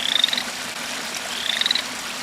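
Two short, bright frog croaks separated by a pause, clear and fairly loud against a steady low background hum, no voices.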